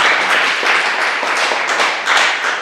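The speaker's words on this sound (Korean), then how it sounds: "우리 주님께 영광의 박수를 드리겠습니다." A church congregation claps for the Lord with a dense, close burst of applause. The clapping is loud and steady and carries a faintly rhythmic pulse throughout.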